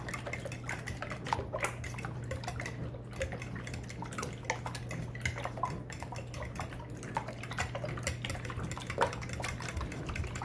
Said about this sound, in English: just stirring eggs